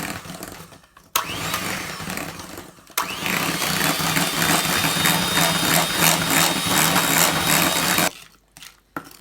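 An electric hand mixer beats butter, sugar, eggs and vanilla for an ovenless Black Forest cake, whirring loudly and steadily in a long continuous burst between short pauses, close to the mic with no talk.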